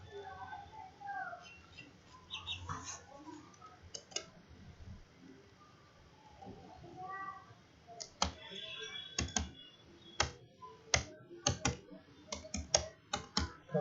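Keys clack on a computer keyboard, a few scattered presses early on, then a fast run of crisp, close keystrokes toward the end, with no talking.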